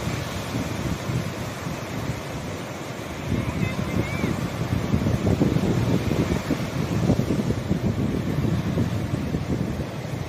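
Steady wind and sea waves wash around a small fishing boat off Fortune Island, a continuous broadband roar that swells slightly midway, with no clear voices.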